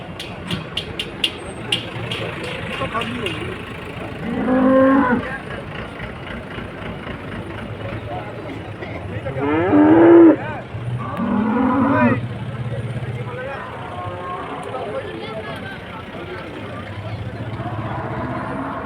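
Cattle and buffaloes at the Dabwali livestock market give loud, drawn-out moos in several separate bursts, over a steady crowd murmur with people talking and a faint idling engine.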